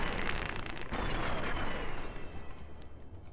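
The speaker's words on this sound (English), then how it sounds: "2 shots should do it." Gunfire in Fallout: New Vegas, a pair of heavy, booming shots against a hall monster inside a game interior, dense and continuous rather than sharply separated, loud and close with no talking over it.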